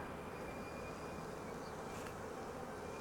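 Honey bees buzzing in a nuc hive, a dense, steady hum of many bees close by, soft and continuous with no voices.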